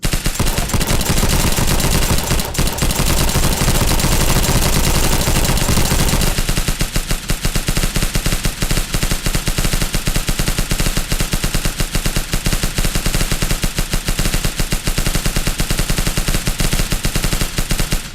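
Continuous heavy gunfire from the VR shooter game Overduty, a pre-alpha engine build, with loud rapid automatic bursts and single shots hammering almost without pause, intensity easing slightly after the first few seconds.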